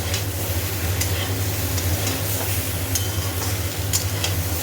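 Food fries in hot oil with turmeric in a home kitchen, a continuous loud sizzle with occasional stirring scrapes and a low steady hum underneath, no voices.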